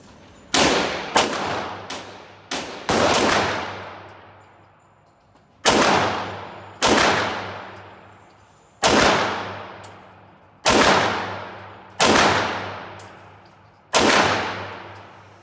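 Loud, sharp gunshots from a Walther PPQ pistol fitted with a Q5 Match conversion kit, fired one at a time in about ten evenly spaced reports, some closely paired, each followed by a brief echoing decay.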